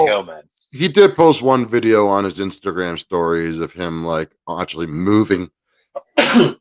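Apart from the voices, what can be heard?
sneeze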